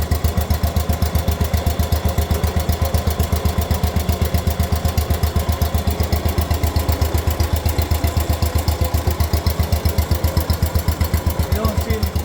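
Farm machine engine idling with a new muffler fitted, a loud steady rapid thumping putter that runs unbroken and close throughout.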